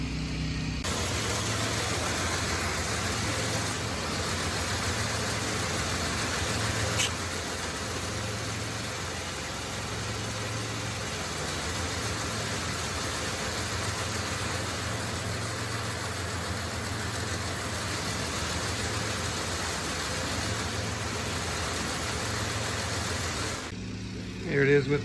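An M18 Hellcat E6 drivetrain model runs steadily for about 23 seconds, a continuous mechanical hum with a faint repeating whir, then stops abruptly at the end.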